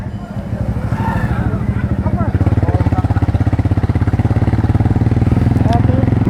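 A small motorcycle rides slowly along a road on a rainy day, its engine putting out a steady, loud, close putter that grows stronger and more regular partway through, with faint voices underneath.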